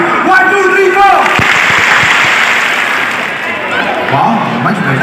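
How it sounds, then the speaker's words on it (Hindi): Audience at a Vestige award function and 18th anniversary event in Kolkata claps along in unison, a loud crowd of applause spread through the hall with a voice at the start. "मुझे 4 बोलने दीजिए, उसके बाद 4 बार ताली मेरे साथ।"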